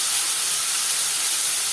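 Chopped large tomato sizzling in a hot pan, a steady, loud broadband hiss of frying that holds evenly throughout with no talk.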